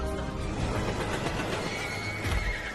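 A horse whinnies loudly in an animated Batman: Caped Crusader episode, a sustained neigh over dense, busy background sound with some clopping hooves.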